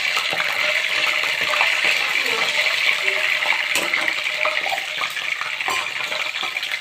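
Peanuts frying in hot oil with mustard seeds and cumin for a tempering, giving a steady close crackle and sizzle with scattered pops and spoon scrapes throughout, no voices.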